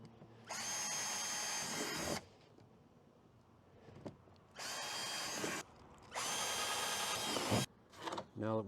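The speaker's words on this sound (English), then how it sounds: "So I'm going to start out by placing it and drilling pilot holes." A power drill bores pilot holes through a kayak deck for a hatch, running in three loud, sustained bursts of a few seconds each separated by quiet pauses with small handling noises.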